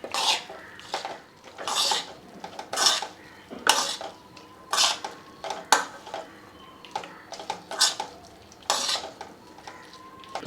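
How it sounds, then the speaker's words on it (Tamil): Pickle vegetables are mixed with chilli powder and asafoetida in a pan, with a spoon scraping and knocking against the metal in a steady rhythm of distinct strokes, close and clear, and no talking. "சில்லி பவுடர் போட்டு மிக்ஸ் பண்ணிட்டோம். நெக்ஸ்ட்டு கொஞ்சமாக பெருங்காயத்தூள். இது எல்லாமே சேர்த்து நல்லா மிக்ஸ் பண்ணிடலாம்."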